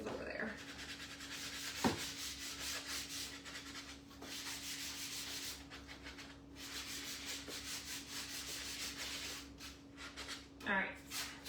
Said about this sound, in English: gonna sand the outer frame because I forgot about it